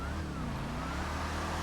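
Bravado Gauntlet Hellfire muscle car in GTA Online, drift tuned, driving with a steady low engine drone and a faint rising whine, continuous and fairly close for under two seconds.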